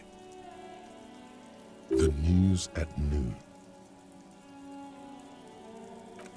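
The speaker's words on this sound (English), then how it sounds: "Rain falls onto the roof of a woodshed." Rain patters steadily in the game Disco Elysium, falling onto the roof of a woodshed in a yard, a soft continuous hiss beneath a brief burst of spoken words.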